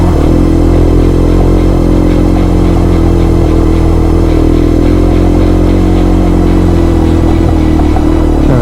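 A Yamaha TDUB motorcycle rides a rocky trail in the Talladega National Forest, its engine droning loud and steady throughout with constant clatter and rattle over the rocks.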